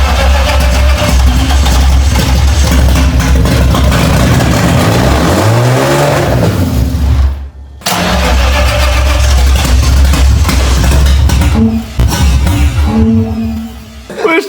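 A BMW E30 engine runs loud and rough close by, its uneven roar rising in revs before it cuts out briefly around the middle, then resumes its ragged running.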